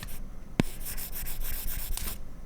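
Stylus dragging across a textured rubbery iPad screen protector, close scratchy rubbing strokes in quick succession with one sharp tap near the start, no talking.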